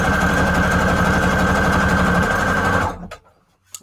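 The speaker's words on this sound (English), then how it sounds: "using a nice wide zigzag stitch usually gets all of them" A sewing machine runs a wide zigzag stitch across strips of paper scraps, a loud, steady close mechanical whir with rapid needle pulses that stops abruptly near the end, followed by a couple of small clicks.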